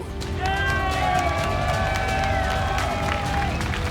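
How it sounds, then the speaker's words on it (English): Crowd noise swells steadily under a caster's voice at a live StarCraft 2 esports tournament, IEM Katowice, during a soO versus Zest Zerg-Protoss match; a broad, sustained roar with whistles and cheers rising and falling over nearly four seconds. "Sounds like the crowd might be split here between soO and Zest fans."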